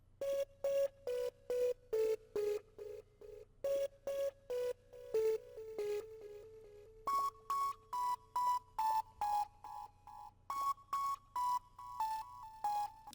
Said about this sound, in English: we're going to add this little super simple pluck on top of the chords that we made that sounds like this